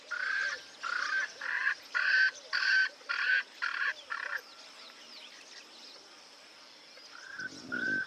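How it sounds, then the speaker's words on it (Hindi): Swainson's francolin in the African bush gives a loud, harsh series of about eight rhythmic grating calls, then falls quiet before two more short calls near the end, with faint background birds. "स्वेनसन्स फ्रैंकलिन। छोटे से इस पक्षी की आवाज बहुत तेज है।"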